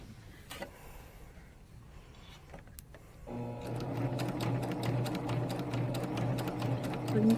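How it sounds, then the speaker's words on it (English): A Babylock Sip n Serge serger stitches fabric, starting up after a quiet stretch with a few faint clicks, then running as a fast, steady, loud mechanical whir close by. "You can see we sew super fast."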